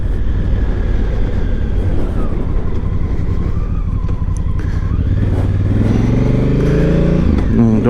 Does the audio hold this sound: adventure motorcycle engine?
yes